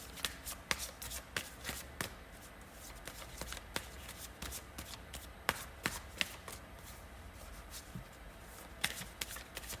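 Reading cards being shuffled by hand, a steady run of crisp riffling and sharp card snaps repeating throughout at close range, with no talking.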